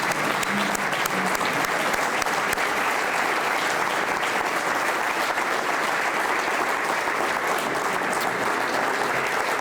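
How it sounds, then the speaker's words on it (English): Sustained audience applause fills a Hall of Fame celebration dinner honoring SIU inductees, a dense, steady wash of clapping from a large room held at even loudness throughout. "how about a parting round of applause"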